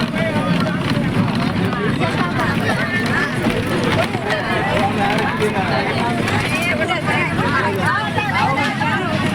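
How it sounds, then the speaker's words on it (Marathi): Dense crowd babble fills a busy, crowded street: many overlapping voices murmur continuously at a steady level, with general traffic and movement noise mixed beneath the chatter. "खूपच गर्दी आहे."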